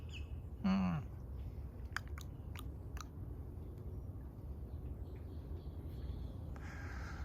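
A crow calls from high up on a regenerative fruit farm with sugar apple and guava trees, giving one loud, harsh caw early on over a steady outdoor background with a few faint later sounds.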